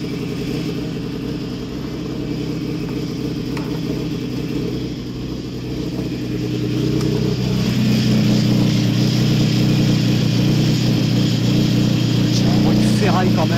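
A Nissan 350Z project car runs on its second start attempt, settling a little smoother, with a low, steady engine rumble that swells louder partway through while voices talk over it.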